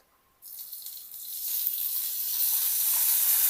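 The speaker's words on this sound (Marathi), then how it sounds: "मिरच्या भाजून घेऊत आपण. मिरच्यावरती थोडं तेल टाकूत." Oil sizzles sharply as green chilies fry in a hot wok, starting suddenly and growing steadily louder and fuller over a few seconds, with no voices.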